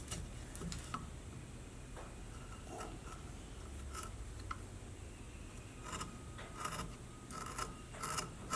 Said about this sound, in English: Get a little shallow gouge and got the profile of the nose.